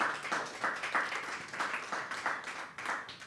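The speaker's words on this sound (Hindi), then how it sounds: "ताली होनी चाहिए एक बार आप सबकी।" Audience at a mushaira poetry gathering clapping, a moderate rolling applause with rhythmic pulses of hands, heard from within the crowd and fading slightly toward the end.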